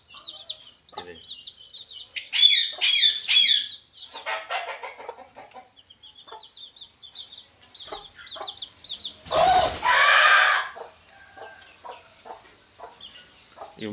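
Several chickens cluck and squawk close by in uneven bursts, with one loud flurry of flapping and noise partway through.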